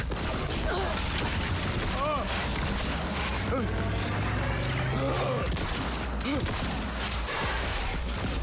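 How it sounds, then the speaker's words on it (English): Gunfire rattles through a Cyberpunk 2077 fight, with dense mechanical clatter and bursts of shots layered over game effects and a talking voice throughout. "what are you shooting?"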